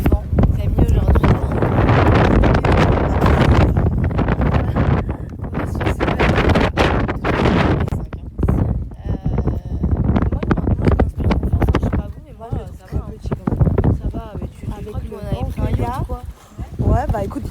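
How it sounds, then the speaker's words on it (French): Strong wind buffets the microphone outdoors in heavy gusts, a loud continuous low roar with fluctuating rustle, while people talk over it throughout. "il y a beaucoup de vent."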